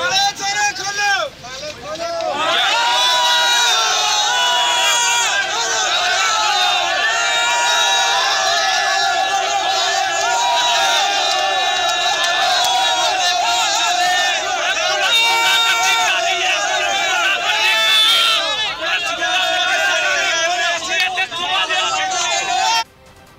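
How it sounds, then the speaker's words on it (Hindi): PTI protesters outside a police-closed gate at a Lahore rally, a loud continuous crowd roar of chanting and shouting voices sustained throughout. "गेट खोलो की आवाज़ें आप सुन सकते हैं इस फुटेज में"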